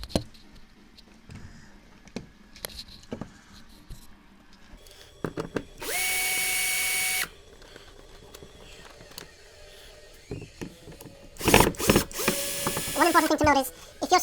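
Close, intermittent clicking and ratcheting of a screwdriver and power driver working the door card screws on a Lotus Elan, with short whirring bursts and handling noises.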